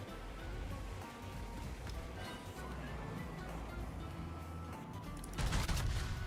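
Secondary guns on a warship in World of Warships firing amid steady sea and engine rumble, scattered distant bangs with a louder burst of gunfire near the end.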